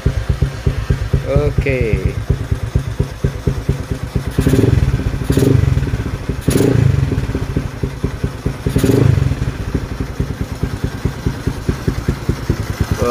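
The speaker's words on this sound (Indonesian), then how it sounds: "dia punya engine pun bunyi smooth, cuma bunyi inilah air cleaner" A Yamaha LC135 Spark motorcycle engine, which had been stalling and refusing to start, cranks and then idles steadily at close range, with a few louder revving bursts and a brief spoken word.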